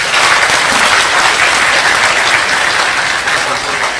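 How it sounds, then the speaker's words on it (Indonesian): An audience claps loudly and steadily throughout, a dense continuous burst of applause from a crowd at a talk, with no voices over it. "tepuk tangan untuk Allah Subhanahu wa taala"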